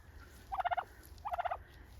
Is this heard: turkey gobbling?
yes